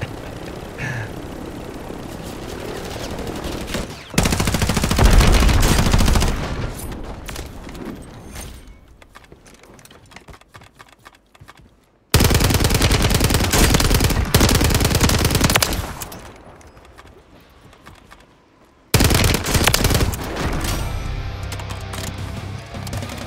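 Call of Duty Warzone gunfire on Rebirth Island: loud sustained automatic bursts in three long stretches, separated by quieter gaps with distant shots and engine drone.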